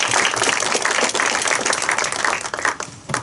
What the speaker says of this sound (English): I think our panel deserves a round of applause.